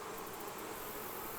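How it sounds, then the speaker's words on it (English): Honeybees from a hive moved too far mill around in a dense, continuous buzz, a steady swarm-like drone close by with no voices. "The problem is I've got bees right here."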